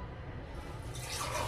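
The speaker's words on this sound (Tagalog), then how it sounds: "Maglalagay tayo ng tubig uli." Water splashes and trickles into a cooking pot while preparing to smoke milkfish, a soft, steady pour that grows brighter and fuller toward the end, quiet and close.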